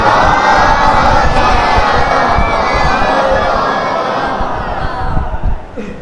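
A large gathering at a majlis chants salawat in unison, a loud, close roar of many voices sustained for several seconds before it fades toward the end.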